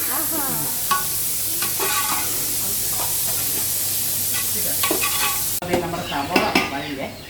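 Chopped onions sizzle steadily in a hot pan while a spoon scrapes and stirs them, with the clatter picking up toward the end. The frying hiss stays close and constant, and no one talks.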